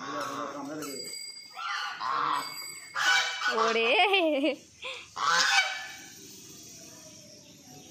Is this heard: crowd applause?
no